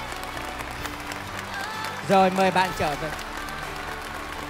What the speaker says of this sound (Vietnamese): Một tràng pháo tay thật lớn cho huấn luyện viên.